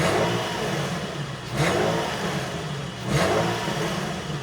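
Toyota Chaser GX100 with a 1G-FE engine revved twice in short blips, each rise swelling over a steady nearby idle hum, no talking.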